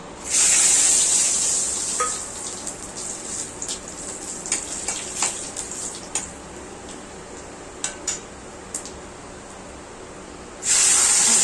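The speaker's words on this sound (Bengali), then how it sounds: "ফোড়নে নিয়েছি কয়েকটা শুকনো লঙ্কা, একটা বড় হচ্ছে এলাচ আর কয়েকটা দারচিনি, বড় এলাচ, দারচিনি আর একটু কালো জিরা" Dried red chillies, black cardamom, cinnamon and black cumin crackle in hot oil for a Bengali pabda fish curry with aubergine and potato: a loud, steady sizzling hiss with light ticks of stirring, fading slightly midway before surging again.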